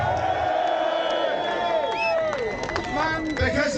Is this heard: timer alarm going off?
no